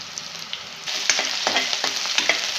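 Onion and white sesame seeds sizzle in a pan, quiet at first and then rising to a steady crackling fry marked by sharp stirring clicks, heard up close.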